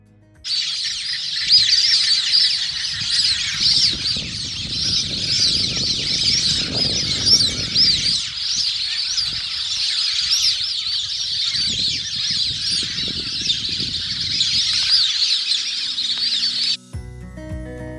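Birds call across the Lake Argyle floodplains, dense overlapping high chirps and twitters in a continuous chorus, with a few bursts of lower, rougher calls partway through.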